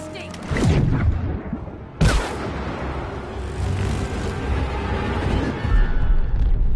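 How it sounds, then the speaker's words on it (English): Explosions in the video game It Takes Two, with a heavy boom that cuts in sharply partway through, followed by rumbling debris and crackling game effects, loud and dense, with a voice faintly under the din. "That was an explosive."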